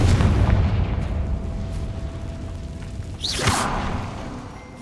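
Confringo fire spell blast in Hogwarts Legacy, a rumbling, booming bed of noise broken by a sharp whooshing burst near the end that trails off into low rumble.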